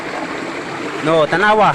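Stream water swirls and rushes steadily through a box used to catch gold, a continuous close wash of flowing water, with a voice talking over it in the second half.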